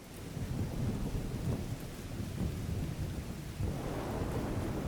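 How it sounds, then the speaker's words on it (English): Heavy rain and thunder in a video game: a dense, steady downpour wash with low rolling rumbles throughout, a fresh surge near the end, no voices. "these heavy rains and stuff are very much in our favor"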